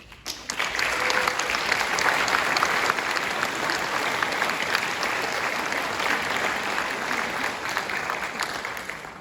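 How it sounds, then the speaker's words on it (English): A high school graduation audience breaks into applause, starting with a few sharp claps before swelling into sustained, full crowd clapping that stays loud and even, easing slightly toward the end. "Graduates, you owe this group a big round of applause."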